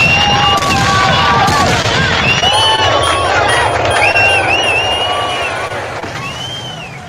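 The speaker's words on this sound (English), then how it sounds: "Give yourself some hand clap. Give yourself some noise." An audience at a live talk event cheers, whistles and claps loudly. Shrill whistles and shouts rise above a steady roar of applause that slowly fades toward the end.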